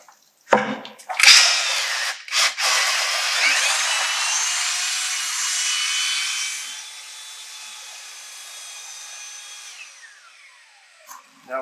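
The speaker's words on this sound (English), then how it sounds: "you'll hear the drill or the mixer kind of struggling a little bit" A drill-driven paddle mixer churns GFRC concrete premix in a bucket, a loud close whirring and scraping that starts with a few bumps, runs strongly for several seconds, then eases to a lighter steady drone before stopping.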